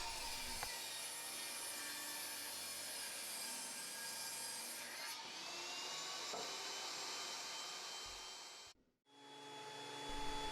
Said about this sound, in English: I'm cutting off the round edge on each side of the boards.